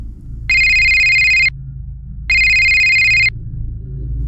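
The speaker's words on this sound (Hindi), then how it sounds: "तभी मेरे फोन पर एक कॉल आया।" An incoming call rings on a phone in a cartoon, two identical electronic ringtone bursts of about a second each, separated by a short pause, loud and alone over a low background hum.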